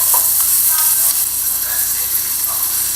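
Red pepper sizzles in a pan as it is stirred, a steady, fairly loud hiss of frying filling the moment with faint scraping from the stirring.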